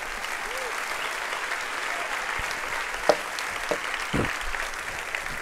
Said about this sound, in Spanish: A dele una ofrenda de palmas al Señor.